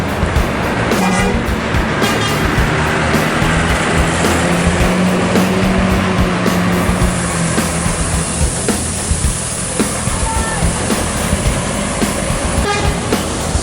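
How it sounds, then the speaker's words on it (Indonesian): Gumarang Jaya intercity bus pulling out of Terminal Baraya Solok toward Jakarta, a loud steady engine rumble with horn toots and busy terminal traffic around it. "bus Gumarang Jaya melanjutkan perjalanan menuju Jakarta dan sekitarnya, meninggalkan Terminal Baraya Solok"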